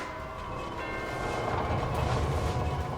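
Fancy doorbell in the video game A Hat in Time, a resonant bell tone ringing out and sustaining over a rumbling, swelling background, with no talk.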